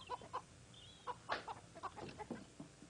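Chickens cluck in short, uneven bursts, fairly quiet and close, with a few sharper squawks mixed among the soft clucking.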